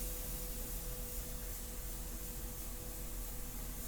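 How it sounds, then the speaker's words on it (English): An airbrush sprays India ink onto paper, giving a continuous, even hiss with a faint low hum beneath it. It runs steadily and close for several seconds with no talk. "A good spray."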